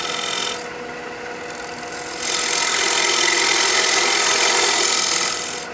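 A skew chisel makes a cleanup cut across a poplar bowl spinning on a wood lathe, a loud continuous rasping scrape that steps up in intensity partway through and holds steady, with the motor hum beneath and no speech.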